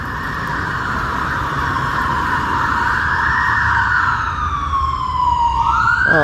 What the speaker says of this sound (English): I do hear sirens.